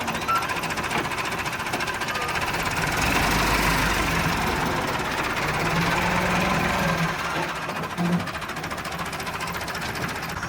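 A tractor engine runs steadily on a farm, a loud continuous low rumble with a rapid mechanical chatter that stays unbroken from start to end, with a slight swell in the middle and no talk.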